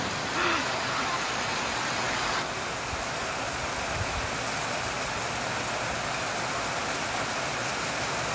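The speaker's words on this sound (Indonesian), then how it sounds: "Masih hujan di sini ya." Steady rain falling outdoors near a railway line in Surabaya, a dense, even hiss filling the whole clip at constant loudness, with no clear voices above it.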